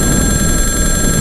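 A mobile phone rings during a motorcycle ride on a North Luzon road trip, its tone steady and continuous under loud wind and engine rumble.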